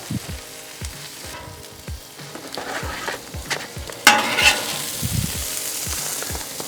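Tortillas warming on a mesquite grill for skirt steak street tacos, a soft steady sizzle with scattered clicks and scrapes of handling, a brief louder crackle midway.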